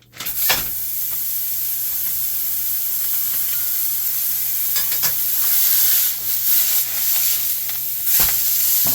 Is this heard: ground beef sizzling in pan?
yes